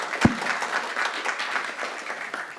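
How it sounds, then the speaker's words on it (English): A crowd applauds steadily, a dense wash of clapping that starts with one sharp thump and carries on evenly without fading. "Please welcome these guys with a round of applause."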